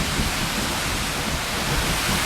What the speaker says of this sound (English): standing down there in front of that falling water